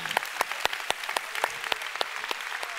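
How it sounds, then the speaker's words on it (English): Church congregation at a Pentecostal service claps together in a burst of sharp, irregular hand claps, close and fairly loud, with a few scattered voices underneath. "Come on, let's give the Lord a big hand."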